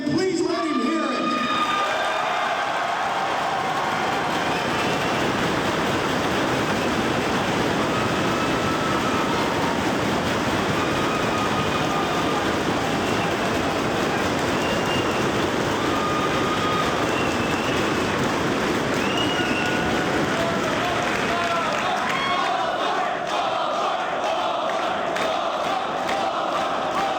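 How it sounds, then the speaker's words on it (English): Wrestling fans scream, yell and cheer in a big arena, a dense, loud crowd roar that swells and holds for nearly the whole stretch before fading at the end. "He enjoyed hearing a bunch of wrestling fans screaming and yelling and cheering."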